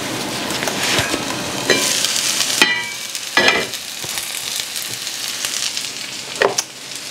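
Sweet potatoes cooking in a covered skillet, a loud, steady close sizzle and crackle with several sharp clatters and scrapes from the pan and utensils.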